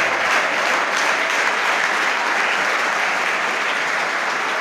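An audience at a college awareness program claps hands steadily while chanting Vitthal, a dense, continuous, loud wash of applause with no pauses throughout.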